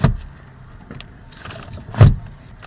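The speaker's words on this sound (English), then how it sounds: "now listen to this. Okay, now the steering is unlocked" A Mercedes-Benz steering column lock releases inside the car, a sharp mechanical clunk at the start and another louder thunk about two seconds later, with faint clicks between, close by and without talk.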